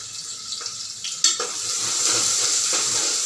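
Finely chopped onion sautéing in a pan, with a spoon knocking and scraping early on, one sharp clack, then a steady hissing sizzle that grows slightly louder and holds to the end.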